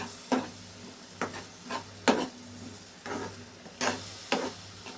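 A spoon stirs cabbage bhorta in a pan, giving roughly eight separate scraping, sizzling strokes at an uneven rhythm over a low steady hiss, close and quiet with no speech.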